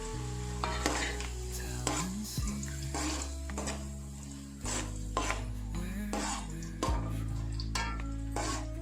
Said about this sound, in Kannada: ಗೋಡಂಬಿ ಮತ್ತು ದ್ರಾಕ್ಷಿನ ಸ್ವಲ್ಪ ಫ್ರೈ ಮಾಡೋಣ